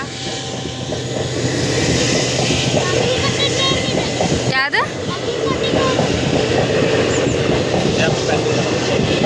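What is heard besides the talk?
train passing a railway crossing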